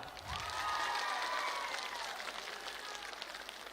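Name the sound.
crowd applauding at political rally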